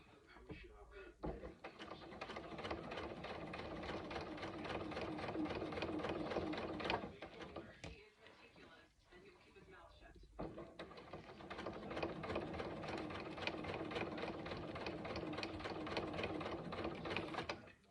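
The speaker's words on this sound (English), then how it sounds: "When sewing with vinyl, remember you need to have longer stitches." A sewing machine stitching vinyl for a backpack front panel, running in a fast steady mechanical whir with a brief pause midway before resuming, close and even throughout.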